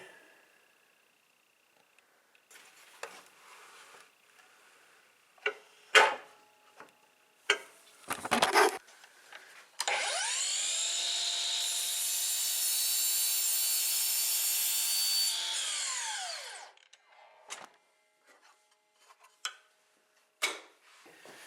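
A saw cutting birch plywood and oak trim in a workshop, a sustained five-second cut preceded and followed by scattered knocks, taps and handling of wood, close and fairly loud.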